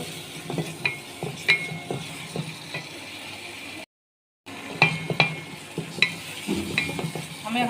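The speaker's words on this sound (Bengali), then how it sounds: "এগুলো মশলাগুলো ভালো করে কষাবো। একটু পানি দিয়ে দেবো।" A spoon stirs chili, turmeric and coriander sautéing in oil in a pan, giving soft sizzling and a series of sharp metallic clinks and scrapes, with a brief silent gap midway.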